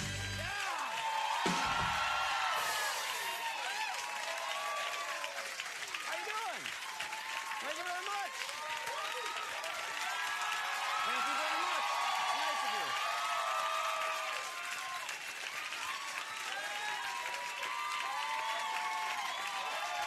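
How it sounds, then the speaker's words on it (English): Audience applause from a played clip, a dense, steady wash of clapping hands with some crowd noise, sustained for the whole stretch at moderate level with talk faintly present. "They're just telling him to applaud until he's got to stop."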